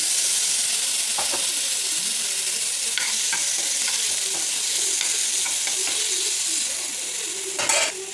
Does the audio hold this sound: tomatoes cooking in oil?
yes